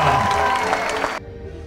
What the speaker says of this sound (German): Applaus einmal für den Stefan Schwab.